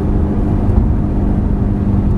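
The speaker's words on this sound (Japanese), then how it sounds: "今日はフェラーリ F430 のご紹介をしていきたいと思います。" Ferrari F430 engine holds a loud, steady low rumble for a couple of seconds, close and continuous, with no voices over it.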